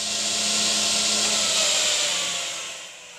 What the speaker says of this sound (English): push the miter gauge all the way through the cut